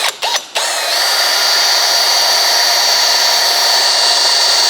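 A power drill spins up close and loud, boring an 8mm hole while fitting water-meth injection on a car: a couple of short bursts first, then a steady high-pitched whine that holds to the end.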